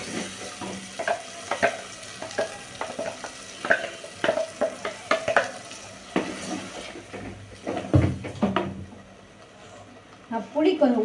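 Ground coconut masala paste goes into a hot pan for fish kulambu, with scattered scraping stirs and bursts of sizzling close by, a brief pause, then renewed frying. A voice talks over part of it.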